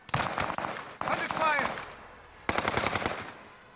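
Automatic gunfire in Call of Duty: Warzone comes in three rapid bursts with short pauses between them, loud and close, with no talk over it.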